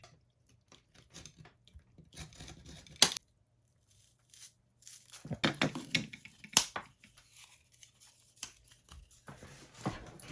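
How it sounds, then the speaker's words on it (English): Plain pressboard being cut into three pieces for a guitar pickup build, heard as scattered crisp snaps, crunches and tearing bursts in uneven clusters, close and fairly quiet, with short silent gaps between cuts. "We'll cut this into 3."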